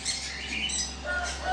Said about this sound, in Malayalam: നല്ല അടിപൊളി കളറേഷനുള്ള തത്തകളാണ് റോസല്ലാസ്